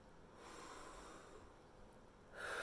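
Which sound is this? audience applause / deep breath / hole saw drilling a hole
deep breath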